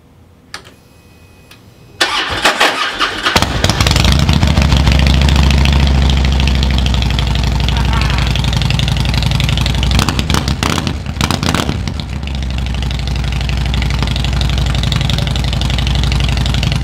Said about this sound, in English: Now that we got the bike running